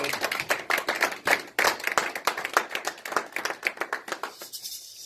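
Steady applause from a church congregation, brisk overlapping claps filling the space for several seconds before thinning out at the end.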